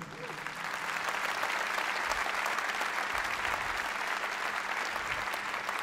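An audience at a jazz concert applauds the keyboardist on the Fender Rhodes with full, continuous clapping that stays strong throughout, backed by a low hum from the stage.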